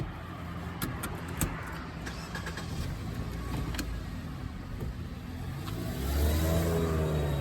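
A car starts up and drives off, a low engine rumble under scattered clicks and knocks that builds into a louder accelerating tone toward the end.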